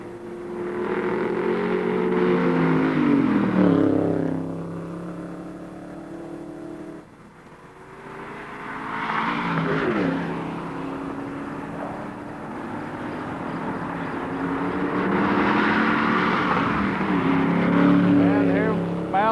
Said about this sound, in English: Here comes the first car out of the paddock.